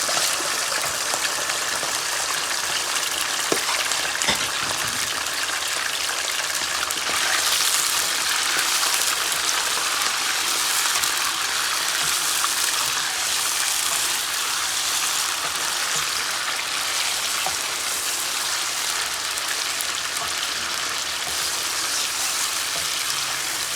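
Chicken frying in a pot of hot oil while cooking haleem, a continuous loud sizzling hiss with crackling, steady throughout and close by.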